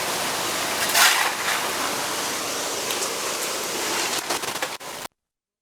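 Heavy, continuous monsoon rain of the kind that triggered landslides across Nepal, heard as a steady, dense hiss that holds evenly for about five seconds before cutting off, with no voices.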